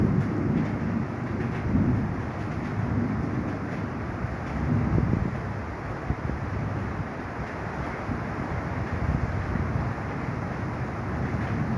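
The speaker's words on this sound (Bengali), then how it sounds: "বাতাস" Strong, continuous wind roaring and buffeting the microphone during a midnight rainstorm among city buildings, with gusts swelling and easing, rain hiss underneath.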